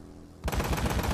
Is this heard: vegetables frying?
no